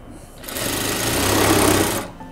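A sewing machine stitches the two side seams of a dress in one steady run, close and loud, starting abruptly and stopping after about a second and a half.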